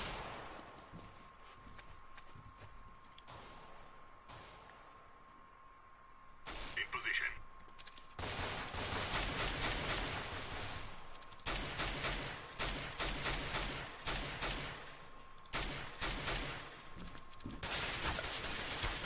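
Rapid bursts of gunfire from a Counter-Strike: Global Offensive match, sharp repeated volleys that grow dense and loud after a quieter opening, with a faint steady tone running underneath.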